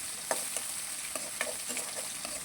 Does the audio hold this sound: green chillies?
yes